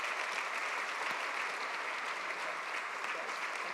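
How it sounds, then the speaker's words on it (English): Steady, dense applause from a conference audience at a closing plenary session, continuous and fairly even throughout with no pause. "So one final round of applause for all of our participants."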